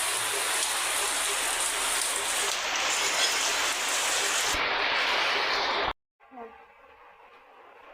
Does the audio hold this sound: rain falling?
yes